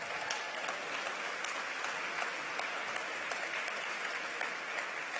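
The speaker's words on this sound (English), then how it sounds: "let's give her another round of applause." Audience at a city celebration applauding an anthem singer: steady, dense clapping from a large crowd, even and sustained throughout with no pauses.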